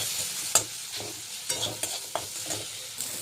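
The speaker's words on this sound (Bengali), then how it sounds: "এবার সব মশলাগুলোকে ভালো করে কষিয়ে নেব।" Spices for a lata fish curry being stir-fried in a pan: steady close sizzle with repeated sharp clacks of a spatula scraping and stirring at an uneven rhythm, no voices.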